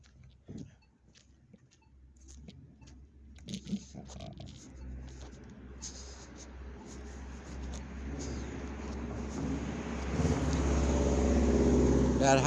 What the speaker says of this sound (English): Listen to that car coming down now.